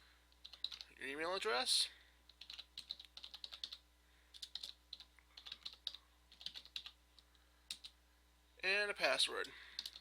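Name, email address and password being typed on a computer keyboard, irregular runs of light clicking keystrokes, with a person talking at the start and end.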